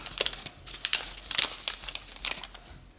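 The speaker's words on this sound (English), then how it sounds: "now we're going to take these creases we just did and fold just the first unit" Origami paper is folded and creased along its folds, producing short crisp crinkles and papery snaps up close in a quick uneven rhythm.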